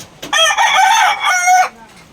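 A rooster crows loudly and close by in a single long call on a backyard poultry setup with hens, the crow rising, holding, then cutting off, with faint clucking around it.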